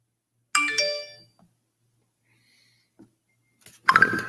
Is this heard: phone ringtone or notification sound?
yes